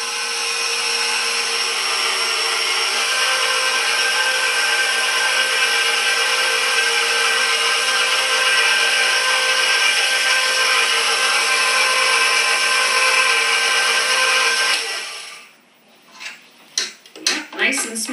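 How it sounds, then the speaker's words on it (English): An electric mixer beats cheesecake mixture with eggs at slow speed, a steady, loud whirring drone that runs evenly for about fifteen seconds before cutting off into a few clattering knocks. "while you can beat the cheesecake mixture on high speed before you add the eggs, once you start adding the eggs,"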